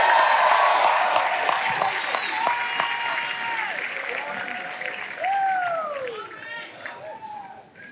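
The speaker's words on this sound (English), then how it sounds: "Give him a hand clap." Congregation applause during an evening church service, dense steady hand clapping close by with a voice and shouts rising over it.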